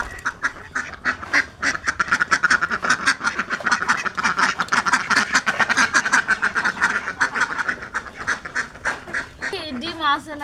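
A flock of farmyard ducks quacks loudly and almost continuously nearby, a rapid, overlapping chatter, with a person's voice briefly heard at the end.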